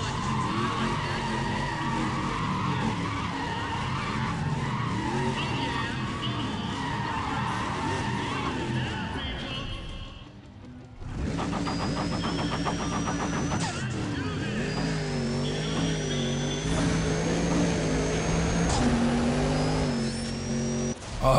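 A race car in the racing game NFS ProStreet Redux, engine droning and shifting pitch through long runs with tire squeal and skidding, a brief dropout midway, then revving resumes with whining gear tones; a voice talks faintly underneath.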